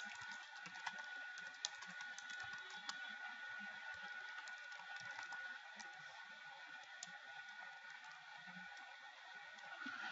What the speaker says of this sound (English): I am typing in this Microsoft Word document with keyboard.